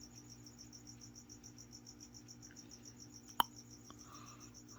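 A feeder cricket chirps in a quick, steady, high-pitched trill that runs right through. It is faint and fairly distant, with one sharp click partway through and a few small noises, and no voices.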